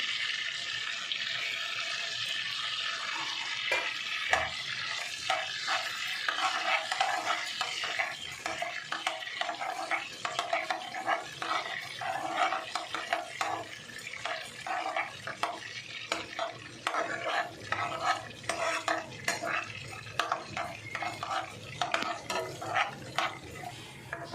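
Dry spices with cumin are stirred and roasted in a pan for corn capsicum curry, a long run of repeated scraping strokes with soft sizzling, close and steady.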